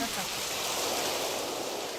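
Steady broadband hiss of rain falling, continuous and even throughout, with no distinct drops standing out.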